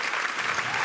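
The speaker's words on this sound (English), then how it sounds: "So I think that deserves a great big round of applause." An audience at an Elvis tribute concert applauds, a dense, steady burst of many hands clapping together, fairly loud and unbroken.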